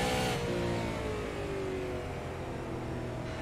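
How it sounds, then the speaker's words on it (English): A super late model race car on the track at Thompson Speedway, its engine droning steadily under throttle at middle distance, with a gliding tone that dips early and then holds as a sustained rumble. "Yeah, I can almost hear that throttle."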